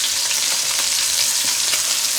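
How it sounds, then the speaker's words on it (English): Beef pot roast sizzles and fries steadily in a pot on the stovetop, a close, continuous crackling hiss with small pops throughout. "Ooh, listen to that sizzle"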